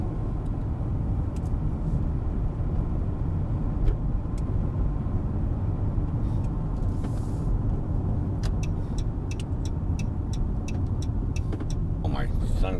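A car cruising on a road during a Montana road trip, a steady low rumble of engine and tyre noise filling the cabin, with a few light clicks and rustles near the end.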